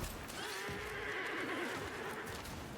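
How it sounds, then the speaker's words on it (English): A horse in the action game Black Myth: Wukong gives a loud, drawn-out neigh over faint hoof clopping, close and without talk. "Horse noise?"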